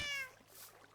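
A Minecraft cat gives one brief, clear meow, close and faint, then fades into low background hiss.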